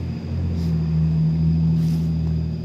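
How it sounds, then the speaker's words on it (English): A loud truck rolls past outdoors, giving a steady low engine rumble and drone that swells and holds for a few seconds with no talking. "Loud truck going by."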